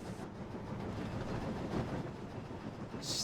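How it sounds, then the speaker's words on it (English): A steam train runs along a track with a faint, distant, rhythmic rumble and clatter of wheels that stays steady for a few seconds. No one speaks. "The train was soon running nicely, and James began to feel confident."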